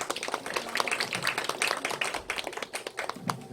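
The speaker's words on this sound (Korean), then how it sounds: "박수 좀 부탁드리겠습니다." A modest audience at a community briefing opposing a cogeneration plant expansion claps briefly after a local party official is introduced, producing a patter of individual hand claps rather than a full roar, moderately close and without speech.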